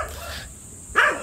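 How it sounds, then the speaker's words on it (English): Dogs in Bali bark nearby, with a muffled bark early on and then a loud, sharp bark near the end after a brief lull. "Enough of these fucking dogs."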